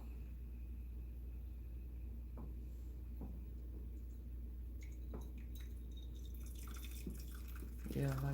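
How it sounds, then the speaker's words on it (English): Juice from a pan of keto shrimp scampi being poured off while a spoon holds back the noodles, giving a faint, steady trickle with a few soft drips over low background rumble. "So we pour some of the juice off"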